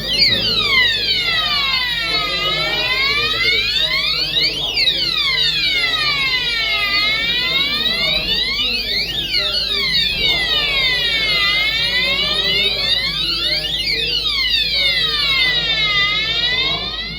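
A loud electronic fire alarm being tested sweeps up and down continuously in rapid repeating whoops, steady and piercing for the whole stretch.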